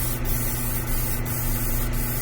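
A spray can hisses steadily as primer is applied to a 1/4 scale Beast prototype model from Graven Labs, producing a close, continuous airy spray with a few brief pulses, without any talk.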